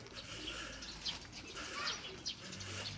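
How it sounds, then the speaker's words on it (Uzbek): Many pigeons gathered around a loft give soft, throaty coos mixed with bursts of flapping wings. The sound is fairly close and continuous, with no voices. "kaptar ko'p, kelib ketadigan ko'p kaptarlar"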